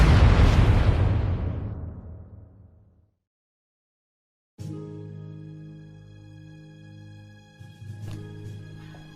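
Railway gun explosions in the video game Trails of Cold Steel at Garrelia Fortress: a massive close boom that decays over about three seconds, then silence, followed by a ringing tonal impact and another burst.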